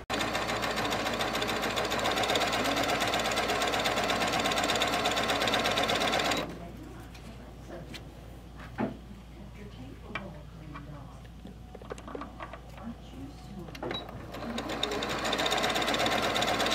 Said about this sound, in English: So I'm going to be at the sewing machine sewing these